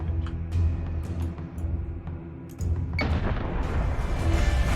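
Starship weapons fire in the video game Battlestar Galactica Deadlock, with repeated booming cannon shots and sharp impacts over a constant low rumble, swelling into a denser, louder barrage partway through.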